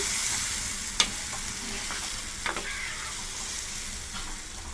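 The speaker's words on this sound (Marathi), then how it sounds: "कांदा एकदम ब्राऊन झालाय, प्रॉन्स घालून घेऊया। परतून घेऊया।" Prawns tossed into a pan of deeply browned onion with salt for a prawn pickle, a steady close sizzle of frying with a couple of sharp spatula scrapes and clinks as the mixture is stirred.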